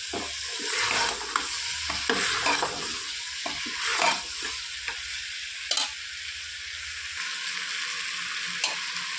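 Eggplant and potato sizzle steadily in a hot pan while a utensil stirs and scrapes through them in irregular bursts, close by with no talking.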